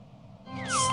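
Cartoon cat meowing once, a short rising then falling meow that grows louder toward the end, heard alone and close.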